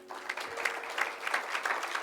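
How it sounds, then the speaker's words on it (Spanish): A church congregation applauds after offerings for a school project in Africa, a fairly quiet, somewhat distant patter of clapping from a modest crowd with individual claps standing out in an uneven rhythm. "Démosles un aplauso."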